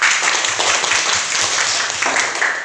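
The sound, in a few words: group spirit clap by children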